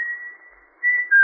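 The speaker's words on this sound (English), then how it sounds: "you could stand in the orchard until you heard him whistle" A man whistles a signal in a radio drama, a steady thin pitched tone that sinks quieter, then rises in two short, louder notes, heard alone.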